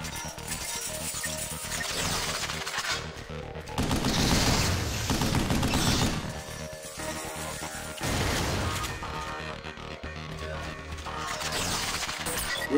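Rapid bursts of weapon fire from the Vanquish video game, loud and dense across the whole stretch, with heavier blasts swelling in at intervals over a busy clattering mechanical backdrop.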